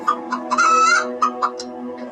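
A cartoon hen clucks in a quick, uneven run of loud, close calls with one longer drawn-out squawk in the middle, heard alone without any talking.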